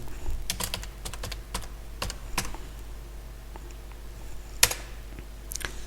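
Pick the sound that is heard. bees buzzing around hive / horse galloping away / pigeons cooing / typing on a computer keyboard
typing on a computer keyboard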